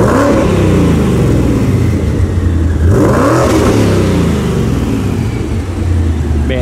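A twin-turbo Ford Mustang making 1400 horsepower, with straight 3-inch exhaust, revs repeatedly from idle, its engine note rising and falling in several close, loud pulls that stay fairly muted throughout.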